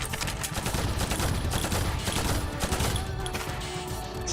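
Gunfire in the Shadow Hearts Covenant video game, a dense, continuous barrage of rapid shots that stays loud and steady throughout.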